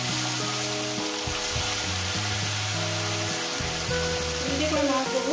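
Small khoira fish pieces sizzle loudly in hot oil, a dense continuous crackle close by, with scraping and stirring knocks from a utensil mixed in throughout.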